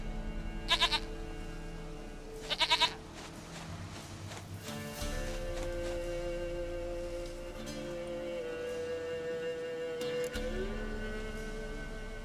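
A goat bleating in the video game Witcher 3, two short wavering bleats in quick succession near the start, followed by a steady low engine-like drone with a faint later call.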